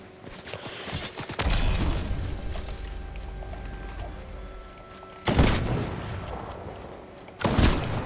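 Gunfire aimed at the player in Fortnite Chapter 5, with two or three loud sharp shot bursts standing out over a busy game soundscape of clanks and background noise.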